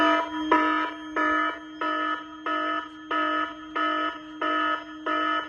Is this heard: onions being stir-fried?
no